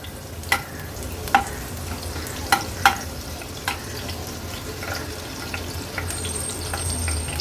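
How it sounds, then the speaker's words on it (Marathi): Crushed garlic cloves sauté in oil with a soft sizzle. Several sharp clicks and scrapes of stirring stand out above the low, quiet frying, and no one speaks. "आता आपण फोडणीला ह्या लसणाच्या पाकळ्या घालूया चेचलेल्या। लसूण आहे ना तेलावर थोडासा असा परतून घ्यायचा आहे।"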